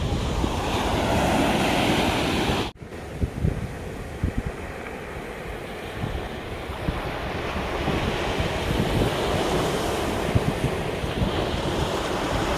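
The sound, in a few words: sea waves at Devgad beach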